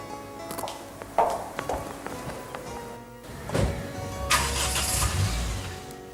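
A car engine starting near a woman setting off to the market, a short cranking then an idle rising into a steady running hum, with door and handling thunks before it.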